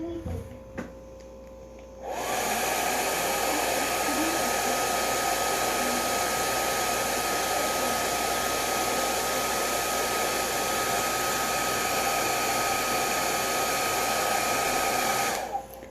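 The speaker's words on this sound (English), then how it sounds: "I'm going to use the hair dryer to heat it up, get it nice and malleable" A hair dryer heating Jamberry nail wraps switches on after a quiet moment and blows steadily and loudly, a constant whirring roar that holds until it cuts off near the end.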